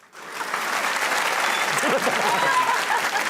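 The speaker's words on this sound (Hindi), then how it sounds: "वो तालियां बजाएं।" Studio audience applauding on a Pakistani comedy talk show, a dense, steady wash of clapping that starts abruptly and stays loud and even throughout, with faint voices mixed in beneath it.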